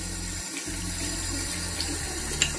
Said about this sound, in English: My tap water is extremely, extremely hot.